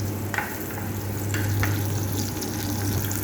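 Tuna sisig sautéing in a pan gives a steady close sizzle and fry hiss, with a few light scrapes of stirring breaking through and a low constant hum underneath.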